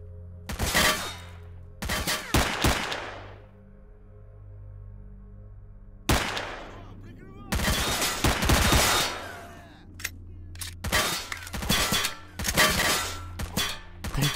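Enemy gunfire in the S.T.A.L.K.E.R. Shadow of Chernobyl video game comes as loud bursts of rifle shots, some single cracks and some rapid strings, separated by short quiet gaps.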